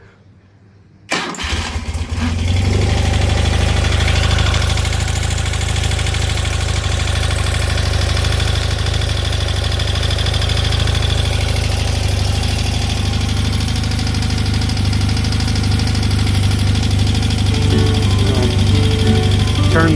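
A BMW R90S motorcycle engine cranks and catches after a second of silence, then settles into a steady, loud, rumbling idle with an even throb that runs to the end; no one speaks over it.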